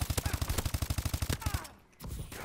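Rapid automatic gunfire in Call of Duty Advanced Warfare, a loud, evenly spaced burst of about a dozen shots that stops abruptly, followed by a brief lull and faint game sounds.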